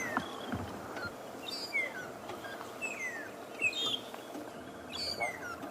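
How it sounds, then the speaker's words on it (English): Several magpie shrikes sing and whistle together in the distance at sunrise on an African safari, sharp rising and falling notes repeating over a steady backdrop of insect and ambient noise. "we are now hearing a huge number of magpie shrikes singing"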